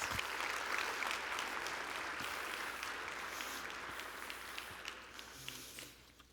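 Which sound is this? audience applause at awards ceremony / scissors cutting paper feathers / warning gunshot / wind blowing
audience applause at awards ceremony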